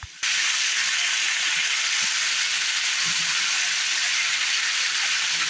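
Potatoes pan-frying to golden crispness, a loud, dense, continuous sizzle filling the pan, with faint low knocks as the pieces are turned over.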